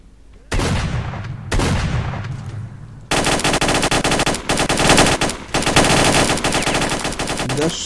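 Gunfire in the shooter game S.T.A.L.K.E.R.: Shadow of Chernobyl, loud close bursts of automatic fire: two short volleys, then sustained rapid shooting with brief gaps, no talking.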